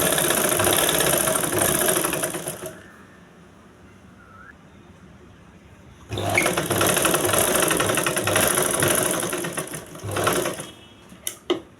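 A sewing machine stitches lining fabric, running steadily for about three seconds, pausing, then running again for around four seconds with a busy mechanical whir and rhythmic needle ticking.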